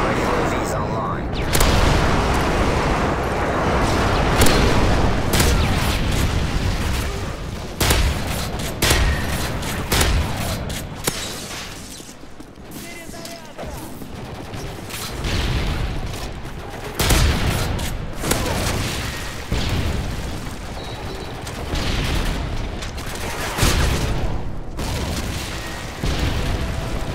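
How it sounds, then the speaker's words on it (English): Friendly airstrike in a Call of Duty game: a long barrage of booming explosions and cracking fire, dense and loud throughout, with a voice speaking intermittently over the blasts. "Friendly airstrike on the way."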